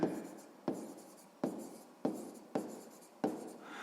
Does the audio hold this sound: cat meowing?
no